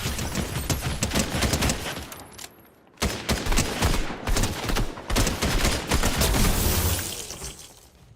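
Mythic Ranger AR firing in a video game: dense, loud bursts of rapid automatic gunfire with sharp cracks, a short pause near the middle, then more sustained volleys tapering off at the end.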